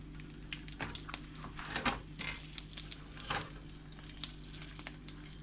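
Shishito peppers dropped into a tablespoon of olive oil in a pan, giving a faint, quiet sizzle with a few soft splatters and pops, and no talk.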